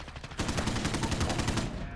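Rapid automatic gunfire in Call of Duty: Modern Warfare beta, a loud, dense burst of shots in quick rhythm lasting about two seconds.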